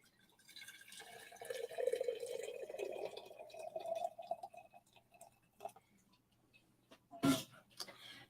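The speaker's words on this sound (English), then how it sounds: "Brewing kettle. Let's get our hot water." Hot water pours from a brewing kettle in a soft, gurgling stream lasting several seconds, quiet and close, followed by faint drips and a sharp click.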